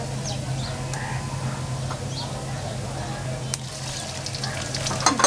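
Cumin seeds sizzle and crackle in hot oil in a pan for an Indian poha chivda snack, a steady near fry with scattered pops and a few clicks, while soft voices or bird-like sounds drift in the background.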